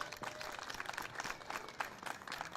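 A crowd at a deaf baseball world cup event applauds the deaf baseball and softball association, a steady burst of clapping at moderate distance.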